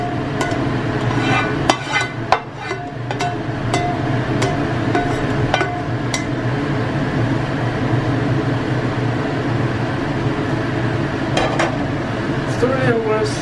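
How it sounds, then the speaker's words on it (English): Chopsticks stirring spaghetti bolognese in a pan with tomato sauce, giving irregular clinks and scrapes against the metal over a low, steady background hum. "Stir it with chopsticks. We're going to mix it."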